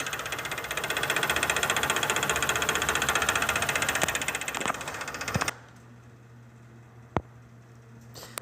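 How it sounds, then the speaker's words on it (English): A 2006 Chrysler 300 with a 2.7 liter engine runs with a rapid, rhythmic knocking from the timing chain striking the valve covers. It is loud and close for about five seconds, then drops to a low hum with a single sharp click. "So I think it's the chain is hitting the valve covers."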